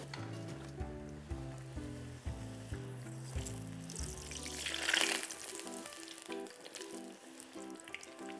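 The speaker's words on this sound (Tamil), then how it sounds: "எண்ணெய் சூடான எண்ணெயில் நம்ம பூரி போட்டுக்கிறோம்." Potato puri frying in hot oil: a bubbling sizzle that swells sharply midway as the dough goes in, then settles, heard over a steady background of low musical tones.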